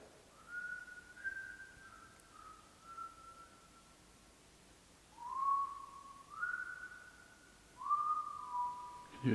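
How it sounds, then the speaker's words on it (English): A person whistles a faint tune in a quiet hall, sending long sustained notes in three phrases separated by short pauses, each phrase sliding between a few pitches. "Did you hear whistling?"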